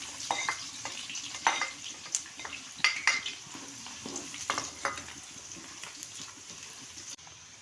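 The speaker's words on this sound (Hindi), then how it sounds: "मैंने पैन में हाफ कप ऑयल डाला है। अब इसमें मैं प्याज ऐड करूँगी।" Finely chopped onions frying in about half a cup of hot oil in a pan give a soft, continuous sizzle, punctuated by sharp spoon-on-pan knocks and clinks as they are stirred.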